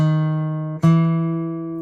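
Fingerstyle acoustic guitar plucking a sustained note, then a fresh attack on the next passing note in a slow chromatic step, clear and close with no voice over it.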